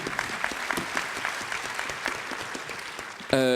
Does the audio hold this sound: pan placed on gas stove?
no